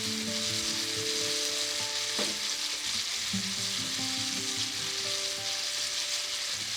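Flour and onion fry together in a pan for a chicken schnitzel sauce, a steady close sizzle with scattered spoon scrapes and a few clinks, no voices.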